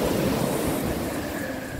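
A continuous roar of surf breaking nearby on a beach in Aurora province, Philippines, broad and rumbling, with wind noise mixed in and no voices.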